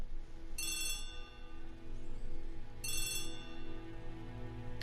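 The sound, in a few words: telephone ringing in an Agatha Christie ABC Murders video game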